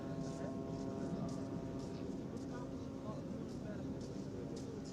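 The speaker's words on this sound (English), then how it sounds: "that's definitely fighter jet that I'm hearing there" Fighter jet and drone flying over Gaza City, a steady broad rumble of aircraft engines with a low droning hum, continuous and distant-sounding throughout.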